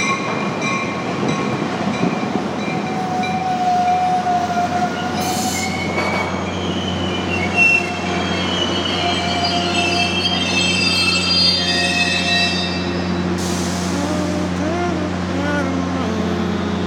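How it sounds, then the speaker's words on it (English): A passing train grinds along with sustained, high metallic wheel squeals that rise and shift over a constant low rumble, close and loud for the whole stretch, with a voice talking intermittently underneath. "One more train."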